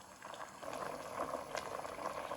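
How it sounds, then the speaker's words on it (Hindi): Sugar syrup for carrot murabba bubbles and froths in a pot over high heat, giving a continuous close, busy boiling hiss and crackle with no talk over it. "अब तेज आंच आपने रखनी है, तेज आंच पे रख के मैं आपको दिखाऊंगी कि कब आपने ऊपर से उतारना है इसको।"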